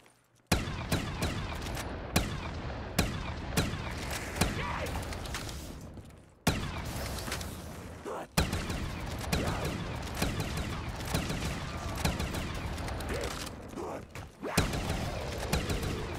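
Sustained automatic gunfire in Black Ops 3 Zombies, rapid loud shots in long bursts broken by a few short pauses, with mechanical clatter between volleys.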